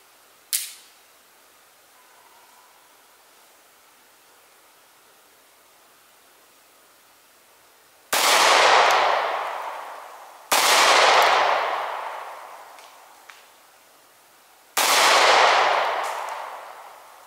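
Three loud pistol shots ring out at a shooting range, fired at three yards a few seconds apart. Each sharp crack trails into a long echoing decay, preceded by a faint earlier click.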